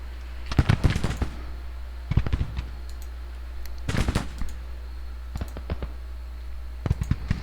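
Gunfire in a Civil War strategy video game battle sounds as scattered bursts of crackling shots, some grouped in quick volleys and others single, over a steady low background hum.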